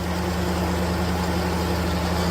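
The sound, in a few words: loud turbo of a car engine revving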